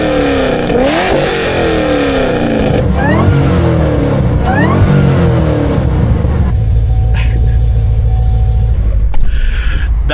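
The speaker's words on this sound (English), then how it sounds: "That exhaust note is amazing." A Chevrolet Camaro ZL1 V8 revs hard through its exhaust, loud and close, with rising and falling throttle sweeps that settle into a deep steady idle rumble near the end.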